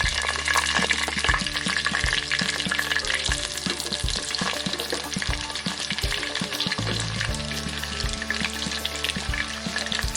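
Onions fry in hot oil for a Nigerian beans and breadfruit porridge. A loud, continuous sizzle runs throughout, broken by regular scraping thuds as the pan is stirred. Nobody speaks.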